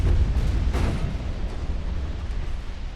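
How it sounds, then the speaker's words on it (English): Warship ammunition detonation in the naval battle game Ultimate Admiral: Dreadnoughts, a deep rumbling boom that swells and then rolls off into a long low-frequency roar, heavy and alone. "Ammo detonation."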